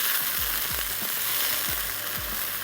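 Prawn masala curry with soy sauce frying in a pan, a steady close sizzle with a few soft stirring scrapes and no talking.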